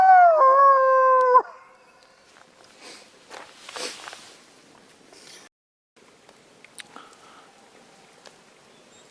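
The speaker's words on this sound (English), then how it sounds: "I think that's an owl." An owl calls at night beside a wild camp in Scotland: one drawn-out, wavering call fills the first second and a half, followed by quiet rustling and soft footsteps nearby.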